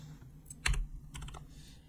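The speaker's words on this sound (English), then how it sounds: "you can type in Painless" Keys clatter on a computer keyboard in a short burst of several close, crisp keystrokes with no talking.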